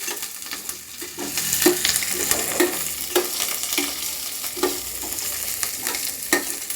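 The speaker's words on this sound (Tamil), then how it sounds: "சீரகம், கடுகு, வெந்தயம், அதுக்கப்புறம் சேர்த்து கருவேப்பிலை, அதுக்கு காஞ்ச மிளகா. இதை நல்லா கிண்டி விட்டுக்கலாம்." Cumin, mustard seeds, fenugreek, curry leaves and dried red chillies crackle in hot oil as a spoon stirs them in regular strokes, giving a continuous soft sizzle with repeated scrapes in a quiet kitchen.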